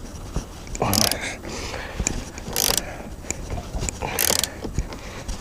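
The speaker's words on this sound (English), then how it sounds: "I'm going to take out the same 2 bolts." Ratchet loosening rear seat bolts in a 2013–2017 RAM truck, with bursts of quick clicking separated by quieter handling noises, close and moderately loud.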